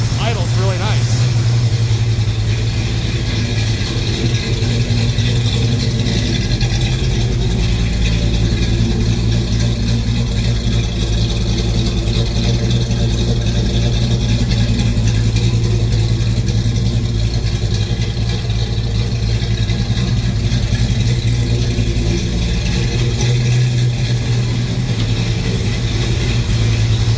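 A car engine with a swapped-in double pumper carburetor idles steadily and loudly close by, a constant low rumble with a smooth, even note throughout.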